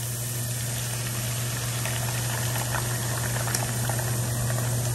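Beaten eggs poured into a hot pan give a steady, continuous sizzle and crackle that stays loud and even throughout, with no talking.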